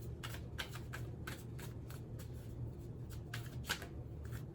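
Tarot cards shuffled for a reading: a rapid, steady run of crisp riffling bursts close to the mic, alone against a low room hum.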